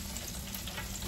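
Pork chops fry in a pan with a loud, steady sizzle and crackling hiss that holds constant through the short moment, with no voices.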